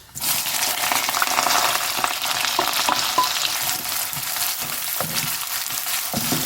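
Onions frying in hot oil with mustard seeds for rava kichadi make a loud, dense, continuous sizzle close by, with faint stirring taps and no talk.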